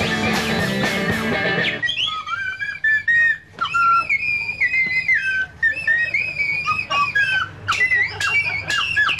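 Melodic whistling of a tune over a 1996 comic song about a whistling freak, with bright trilling whistle lines running continuously over backing music after a brief musical intro.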